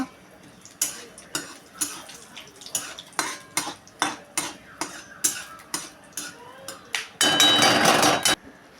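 Peanuts roasting in a pan for dahi poha, stirred with a utensil in a regular series of sharp scraping clinks about twice a second, ending in a louder burst of noisy sizzle.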